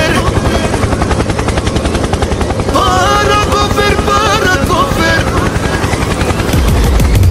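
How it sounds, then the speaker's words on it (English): A helicopter in a turboprop flight simulator video game, its rotor chopping loudly and steadily throughout, joined midway by wavering tonal game sounds. "Helicopter, helicopter."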